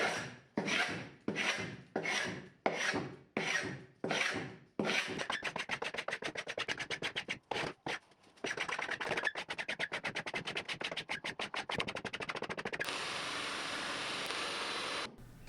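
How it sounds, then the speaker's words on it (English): Hard rasping strokes of a carbide scraper stripping tough paint from a wooden antique sideboard. Slow rhythmic scrapes at first, then a sped-up rapid blur of scraping that is close and loud with no talking. "now I'm gonna have to work very hard with this carbide scraper"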